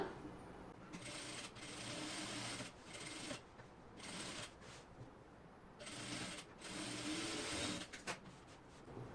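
A sewing machine stitches the lining of a kurti in quiet, repeated bursts of fast mechanical whirring separated by short pauses, with no talk.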